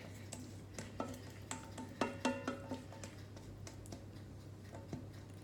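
Silicone spoon scraping cake batter from a mixing bowl, a run of soft scrapes and light knocks against the bowl over a steady low hum, with no talking.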